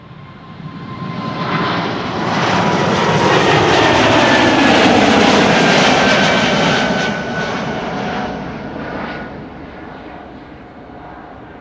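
An airBaltic airliner in a special livery climbs away from Amsterdam Schiphol, a loud jet roar building quickly, holding near its peak with a rising whine, then fading steadily as it moves off, with no talk.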